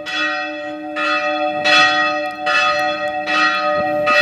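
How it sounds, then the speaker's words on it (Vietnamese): A church bell tolls to call people to mass, sounding five evenly spaced strokes with ringing, overlapping tones, loud and close, with no voices present. "Chuông báo hiệu lễ đấy."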